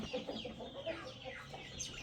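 A hen clucks repeatedly in a coop, soft short clucks and low calls coming in an irregular rhythm at close range, with no talking.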